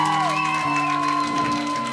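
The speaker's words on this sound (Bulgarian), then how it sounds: "Ще ви помоля за шумни аплодисменти още веднъж за нашите музиканти." A concert audience at a live club show applauds, with steady clapping and some cheering forming a dense crowd wash under lingering sustained musical tones.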